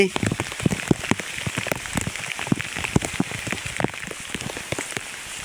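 Heavy rain patters densely and continuously on a surface, with scattered sharper drops standing out through the steady wash.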